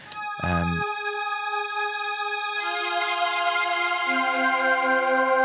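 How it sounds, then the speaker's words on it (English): Synth track played through a simple echo delay effect: a sustained chord stack with a short bright attack, its notes shifting twice and repeating steadily, loud and alone with no voices. "program in an echo here, just a simple basic echo"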